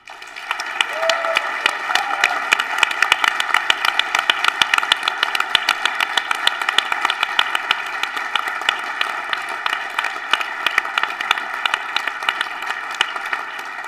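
Sustained applause from a TEDx event audience at IIT in Chicago, dense steady clapping filling the whole stretch at full strength with a faint hum beneath.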